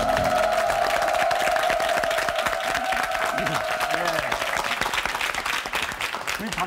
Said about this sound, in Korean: 박수 한번 쳐줘라.